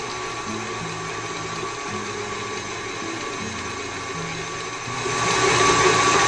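An electric mixer whirs at medium-high speed through eggless chocolate cake batter, a steady motor hum that grows louder and brighter near the end, with no talking.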